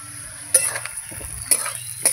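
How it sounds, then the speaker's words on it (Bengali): Potatoes fry in a pan with a soft, steady sizzle, broken by three sharp metallic clinks of a utensil against the pan. "আর একটু আলুটা ভাজা হতে দেব।"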